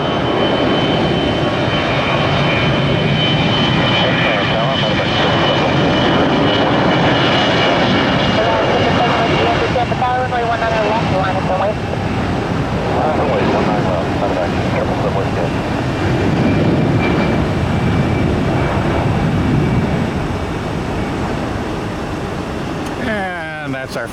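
An Airbus jet airliner passes overhead near an airport on a hot, still day, a loud, sustained engine roar and whine that swells and fades over many seconds while people talk.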